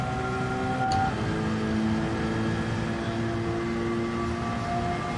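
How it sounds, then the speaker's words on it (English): A race car engine in Gran Turismo 7 drones at a steady, loud pitch during cup race practice, with faint tonal shifts and no voices. "I'm getting a little bit more used to the sound of the engine"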